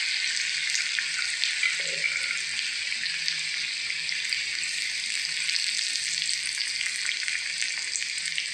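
Onion, garlic and curry leaves fry in a pan for Khandeshi shev bhaji, giving a continuous, even sizzling hiss at moderate level, with no one speaking.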